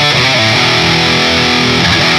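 Electric guitar through a Peavey Invective mini head on its lead channel with the boost engaged roars with heavy, saturated distortion, loud and close, sustaining chords that change a couple of times with no pause.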